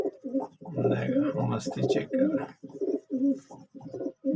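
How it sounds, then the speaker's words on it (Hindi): Pigeons coo nearby in repeated throaty, rolling phrases, someone speaking over part of the calls. "दोनों बड़े मजे के कबूतर है।"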